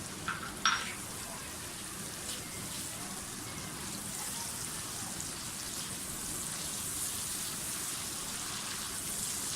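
Masala and a spoonful of yogurt frying in a pan for black chickpea curry, a steady broadband sizzle throughout with a couple of brief spoon clinks near the start.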